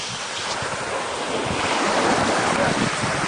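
Ocean surf rolling onto a beach, a loud continuous roar of breaking waves mixed with buffeting wind on the microphone, building slightly stronger toward the end, no clear voices.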